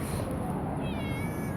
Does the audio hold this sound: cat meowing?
yes